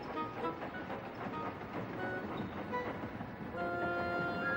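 A steam locomotive chuffs along with a rhythmic, moderately loud puffing, joined by ringing tonal whistle-like notes toward the end, with no talking.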